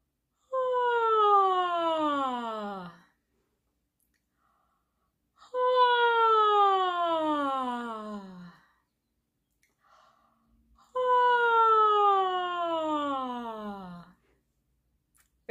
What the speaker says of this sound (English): let's do, as a warm-up exercise, three yawns with a descending sigh